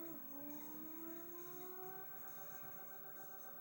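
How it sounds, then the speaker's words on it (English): A drawn-out tire squeal with a rising whine over a steady engine drone in a PS1 racing game, fairly close and unbroken for a few seconds. "Generic tire squeal."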